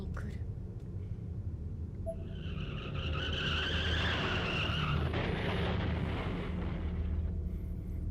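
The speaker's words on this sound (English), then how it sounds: "Another car accident again right outside my door." A car crash with skidding tyres in the horror video game Corpse Party: Blood Drive: a long, high tyre screech rises over a steady low rumble for several seconds, then settles into a continuing roar.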